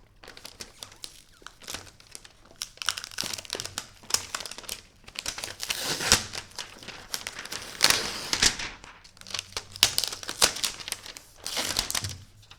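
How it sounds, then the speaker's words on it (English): Plastic wrap is crinkled and peeled off a new Lenovo Yoga Slim 7i Pro X laptop, giving a steady run of close, crackling rustles with sharper snaps and tears. No one talks. "Let's remove this plastic and see how the laptop feels."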